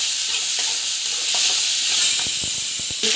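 Tomatoes sauté in a hot pan with a dense, close hiss and sizzle. Several sharp scrapes from stirring come near the end.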